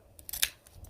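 Garden scissors snipping off dead brown bits of a plant, a few quick close snips, the strongest in the middle, with a faint low rumble beneath.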